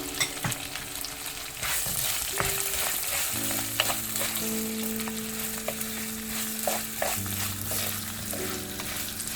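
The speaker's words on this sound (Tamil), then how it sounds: "இப்போ கருவேப்பிலை, பச்சை மிளகாய் எல்லாம் நம்ம கொஞ்சம் பொரிஞ்சோடனே வெங்காயத்தை சேர்க்குறோம்." Onions fry in hot oil with curry leaves and green chillies for a mutton kuzhambu, a loud close sizzle broken by stirring scrapes, with steady low hums in the background and no talking.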